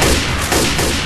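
Gunfire crackles in the zombie shooter Left 4 Dead, a rapid burst of overlapping shots over about a second, loud and close, with no voices.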